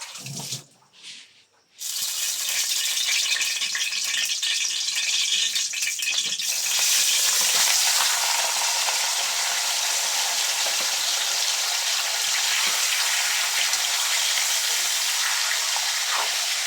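Oil sizzles loudly in a pan while sautéing, a steady hissing crackle that bursts in after a brief quiet start and keeps going without pause.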